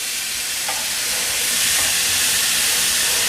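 Meat searing in a hot pan outdoors for crock pot Italian sandwiches, a loud, even, continuous sizzle and hiss close by with no talking.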